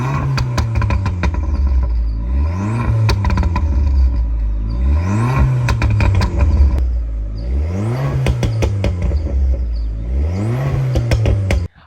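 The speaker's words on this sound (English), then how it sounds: "Let's take a look at how this car sounds like with the burbles tune and a full system" An Abarth Punto with a full-system valvetronic exhaust and burbles tune revs repeatedly, each loud pull rising and falling in a rhythmic sweep, close and alone, the engine note cutting off abruptly at the end.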